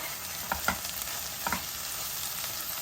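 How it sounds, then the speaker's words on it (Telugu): Onions and ginger garlic paste fry in a pan with a steady close sizzle, broken by two brief clusters of stirring scrapes. "అల్లం వెల్లుల్లిపాయ పేస్ట్ పచ్చి వాసన పోవాలి. ఈ ఆనియన్స్ కూడా ఎర్రగా అయిపోవాలన్నమాట, బాగా వేగాలి"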